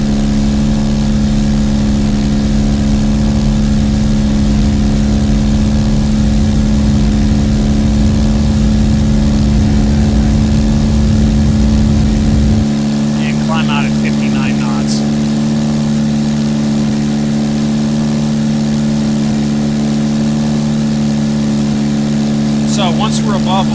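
Steady drone of a light aircraft engine at full mixture during a short-field takeoff roll in a flight simulator game, loud and continuous, with a lower rumble that drops away partway through, and an instructor talking over it.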